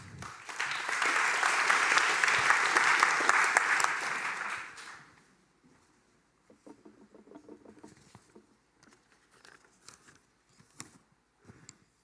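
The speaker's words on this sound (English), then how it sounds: "Please give a warm welcome applause for Graham Sturt." An audience claps warmly to welcome a speaker at a graphic design event, a full burst of applause lasting several seconds before fading out, leaving scattered faint taps and rustles.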